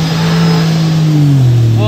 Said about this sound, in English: boat took off way harder than the new boat